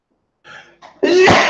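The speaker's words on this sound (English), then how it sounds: "I am going to sneeze." One person sneezes during a home live stream, with a quick intake of breath in two short gasps, then a loud, close, explosive sneeze that cuts off sharply.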